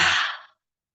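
A single forceful breath pushed out through the nose or mouth during yoga breathing, a close, loud breathy whoosh that fades out within half a second.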